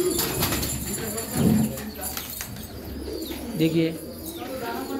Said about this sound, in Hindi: बहुत खूबसूरत कबूतर है माशाल्लाह बहुत